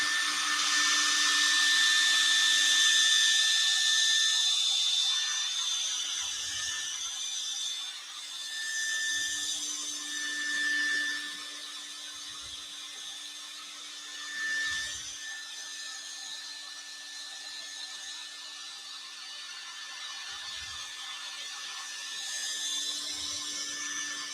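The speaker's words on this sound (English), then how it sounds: "So let me take my fancy hairdryer." Hairdryer drying crackle paint on a woodturned piece, blowing as a steady, close whirring hiss with a faint whine throughout, and a few soft low bumps under it.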